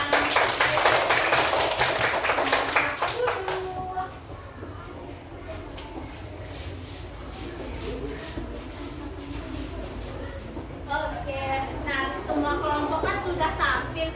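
A third-grade primary school class applauds with a burst of dense, loud clapping for about four seconds, then settles into children's chatter, shuffling and scattered taps, with a second rise of noise near the end.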